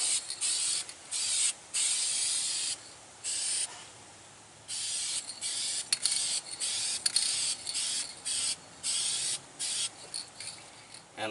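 Bursts of spray paint hiss out in short and longer passes, each followed by a pause, as a light coat goes onto car body touch-up work, close and alone.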